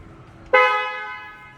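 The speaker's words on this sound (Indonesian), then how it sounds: "Untuk bunyi klakson," A single short honk from a 2020 BMW M2 Competition car horn, loud and close, sounding abruptly and then fading over about a second.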